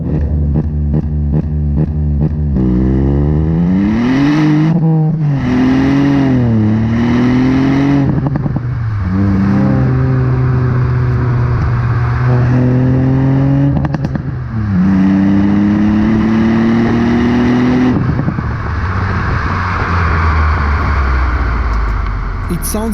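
A Ford car accelerates hard through several gears, its engine note rising and dropping with each shift, an amplified exhaust sound that is loud and close, with someone talking over parts of it.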